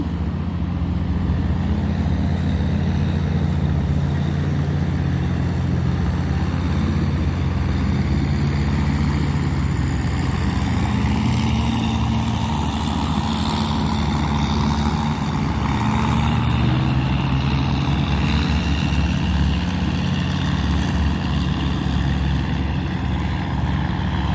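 Motor tugboats tow heavily loaded barges through an S-bend on a river in high-water season, giving a steady low engine drone that stays constant and moderately distant for the whole stretch, with no voices.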